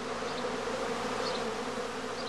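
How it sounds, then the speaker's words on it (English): Swarming honeybees emerging from a skep, a dense, steady hum of many wings, continuous and close. "the humming of the emerging bees is a good indicator of the progress of swarming"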